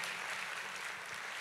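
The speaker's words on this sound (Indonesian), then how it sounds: "tepuk tangannya yang paling meriah buat Yesus Tuhan kita" Congregation clapping during a church service, a soft, fairly distant patter of many hands holding steady for a moment with no voices over it.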